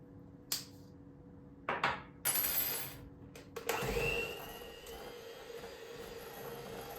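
An electric hand mixer whisks San Sebastian cheesecake batter of cream cheese and cream: a few clinks and brief bursts, then the motor whirs on steadily and close by for the rest.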